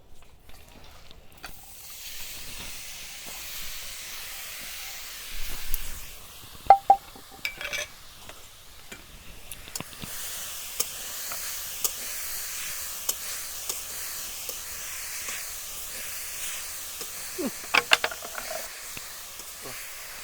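A grated coconut and sugar mixture for kheer narkel naru cooks in a kadai over low heat, giving a soft continuous hiss, with occasional light scrapes and clinks as it is stirred.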